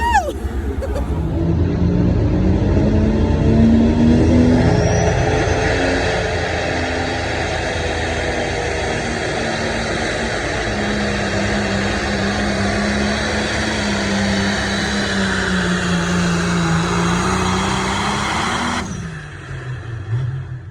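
A pulling tractor at the Badger State Tractor Pullers Pulling for Hope benefit tractor pull roars loud and sustained for about eighteen seconds, its engine pitch rising and then holding steady before cutting off near the end.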